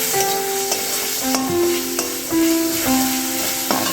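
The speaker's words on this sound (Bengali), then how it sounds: "ভালো করে মিক্স করে নিচ্ছি মশলাটা।" Spice masala with ground cumin being stirred and fried in a pan for mutton kasha: a continuous bright sizzle under repeated scraping strokes of a spoon, close and steady, with no voices.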